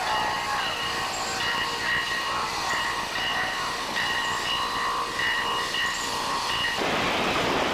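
A train rolls steadily along the rails with a continuous rumble and faint high-pitched wheel whine, holding level throughout and swelling into a broader roar near the end, with no voices.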